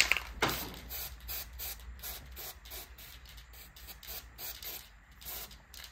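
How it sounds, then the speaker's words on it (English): An aerosol can of copper spray sprays a brake bracket in a series of short hissing bursts, one stronger blast at the start, then rhythmic puffs close by. "I'm gonna spray the inside of it so that the brake pads don't stick"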